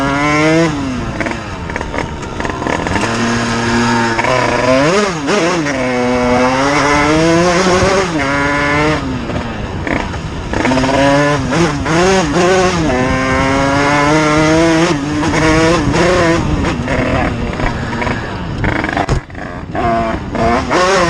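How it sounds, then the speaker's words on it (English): A motorcycle engine roars loud and continuous, revving up and down through rising and falling pitch sweeps as the rider throttles hard and speeds away during a high-speed police chase. "He skillfully turned on the throttle and sped away as if nothing had happened."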